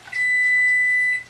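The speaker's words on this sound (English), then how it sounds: "There's the timer." A kitchen timer gives one steady, high electronic beep lasting about a second, close and clear, alone in a quiet room.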